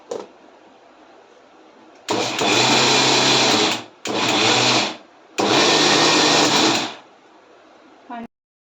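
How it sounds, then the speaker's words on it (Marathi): A mixer grinder grinds soaked urad dal for vada batter in three loud, whirring bursts separated by short pauses, with quieter background sound before the first burst. "आता सर्वप्रथम मी ही उडद डाळ मिक्सरमध्ये बारीक करून घेत आहे"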